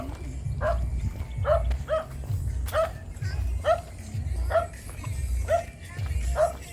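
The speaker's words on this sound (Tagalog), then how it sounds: "Ano yung aso?" A dog barks repeatedly in a steady rhythm, about once a second, at moderate distance over a low background rumble.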